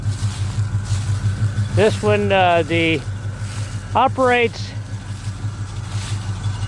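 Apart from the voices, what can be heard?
1968 Pontiac GTO original 400 engine running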